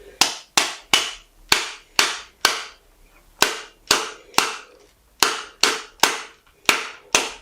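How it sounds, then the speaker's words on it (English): A rubber hammer taps a part into place on a 2020–2021 Kawasaki Ninja 1000SX fitted with bar risers. There are about fifteen sharp, close knocks in quick uneven bursts, with one short pause. "You can try tapping it in with a rubber hammer."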